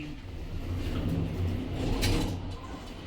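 Automatic lift doors sliding open in a York city centre building with a hydraulic lift, a steady low mechanical rumble with a brief brighter swell midway, no talking.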